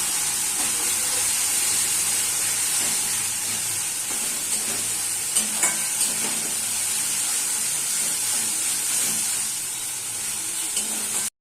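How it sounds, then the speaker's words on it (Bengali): Ground masala with Kashmiri chili powder and salt sizzling steadily in a hot pan, a dense continuous frying hiss throughout with a few faint stirring scrapes near the middle. "দিয়ে আবারও ভালো করে মশলাটাকে কষিয়ে নেব"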